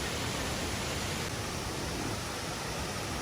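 A continuous, dense roar of a mountain waterfall near Chiang Mai, loud and unbroken from start to finish.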